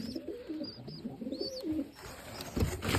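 Baku pigeons cooing nearby, several soft, rolling low coos in sequence with faint higher chirps, followed by rustling and handling noise, with no talking.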